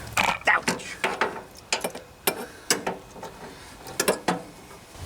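Ratchet wrench working 9/16 bolts off the steering plate of a Craftsman riding lawnmower, a series of close, irregular clicking bursts and metallic clatter with brief pauses between strokes.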